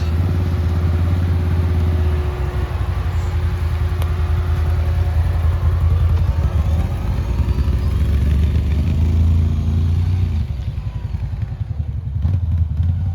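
A Can-Am Renegade 1000 ATV engine roars steadily near at full throttle, a loud continuous rumbling drone that holds high for about ten seconds before easing briefly near the end.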